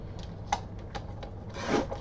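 Paper is trimmed again with a few short, close rasping cuts and rustles, soft and brief, while making a planner from a binder.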